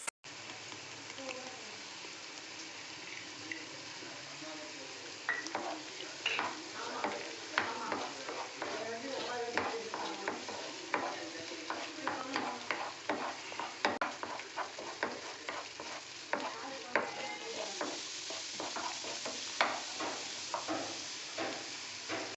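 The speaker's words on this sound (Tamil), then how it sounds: "இஞ்சி பூண்டு பேஸ்ட்டு சேர்த்துக்கலாம்." Ginger garlic paste frying with softened onions in a pan for a spicy egg pepper gravy, a steady close sizzle broken by repeated scraping strokes of a stirring spoon, with no talking.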